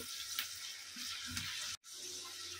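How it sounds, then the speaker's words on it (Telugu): Dried red chillies fry in hot oil while being stirred, for an amla pickle, giving a soft, steady sizzle that runs throughout, with one brief dropout near the end and no voices. "ఇవి కొంచెం బాగా ఫ్రై చేసుకోండి ఇలాగే వేడి నూనెలోనే ఇలా కలుపుకుంటూ ఫ్రై చేసుకుంటే ఆ నూనె వేడికి అవే ఫ్రై అయిపోతాయి"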